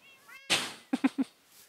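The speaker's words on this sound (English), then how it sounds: "So we come pet the cats and they play." Minecraft cats in a game world give one drawn-out meow, then three short, quick meows in a row, clear and close against a quiet background.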